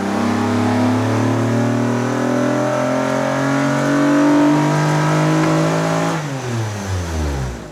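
Acura TSX Type S engine on a dyno revving hard through the gears, a loud steady harmonic drone that rises, then breaks up and stumbles at high RPM as it misfires, ending in a falling rev.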